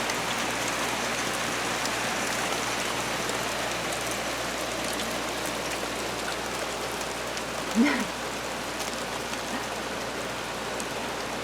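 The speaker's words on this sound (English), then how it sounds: "Is that rain?" Steady rain hisses evenly throughout, a dense broadband patter with no talking and one brief louder knock near the end.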